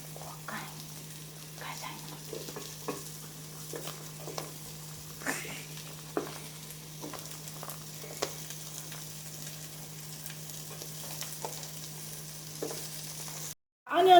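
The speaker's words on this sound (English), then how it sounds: "Onions are fried now, so we are adding the rest of the vegetables." Onions and vegetables for Ghana fried rice frying in a pan, a steady low sizzle with occasional stirring scrapes and taps throughout, fairly quiet, with a faint constant hum underneath and a brief cutout near the end.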